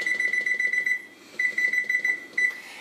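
Oven timer beeping in quick repeated bursts while being set for baking a cheesecake, a run of short bright beeps, a brief pause, then another run, close and clear with no talk.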